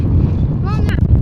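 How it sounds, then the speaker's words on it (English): Wind gusting outdoors on a spring farm buffets the microphone with a steady low rumble throughout, and a voice is heard briefly over it. "gosh, it's windy."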